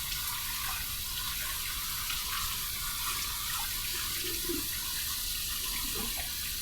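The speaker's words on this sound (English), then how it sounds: "we'll put a little more water in the sink here." Water runs from a tap into a sink in a steady, close splashing rush that holds evenly throughout, with no voices over it.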